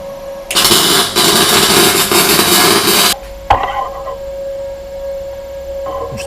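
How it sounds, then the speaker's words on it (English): Welding the small case differential of a BMW E46 Compact: a loud steady crackling hiss from the welder for about three seconds, then a sharp clank and a quieter electrical hum. "just about to start welding it up"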